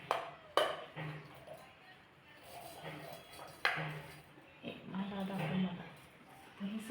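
Raw mango chutney ingredients are tipped into a mixer jar, giving two sharp clunks and clinks of metal and crockery against a voice heard in the background.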